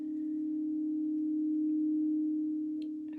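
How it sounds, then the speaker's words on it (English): A crystal alchemy singing bowl sustains one pure, steady ringing tone throughout, holding a smooth, even level with a faint overtone above it and a few soft clicks near the end. "Allow the beautiful sounds of the crystal alchemies"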